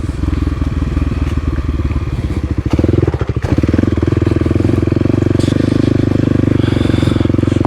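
Kawasaki KLX300 dirt bike riding through a quarry, its single-cylinder engine droning loud and close throughout, with a brief burst of rattling and thumps near the middle as the throttle surges.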